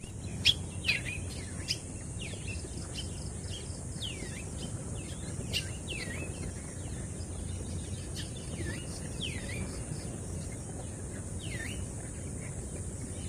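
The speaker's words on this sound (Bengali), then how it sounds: "যখনই পাখির এই কিচিরমিচির ডাকগুলো শুনি তখনই মনটা ভালো হয়ে যায়।" Several birds chirp and tweet outdoors, with repeated short descending calls scattered throughout, some close and some farther off, over a steady low background hum and faint insect-like buzzing.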